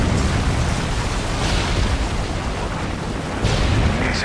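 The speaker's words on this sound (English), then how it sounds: "Friendly Predator missile inbound." A Predator missile strike explodes in the online shooter Modern Warfare 3, a dense, roaring blast with rumbling low end that fills the whole moment, swelling again near the end.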